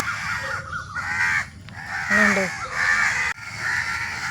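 Harsh crow caws repeat through the clip, several calls in quick succession against a steady outdoor background hiss, with a voice faintly underneath.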